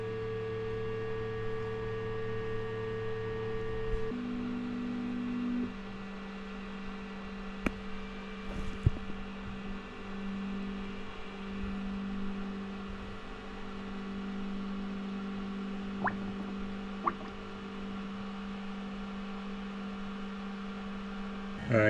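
An Elegoo Saturn 4 Ultra resin 3D printer runs with a steady motor hum and tonal drone as its build plate moves down, the pitch shifting partway through, with occasional faint clicks and no talking.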